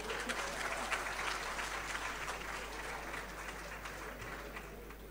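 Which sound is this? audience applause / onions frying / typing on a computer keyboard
audience applause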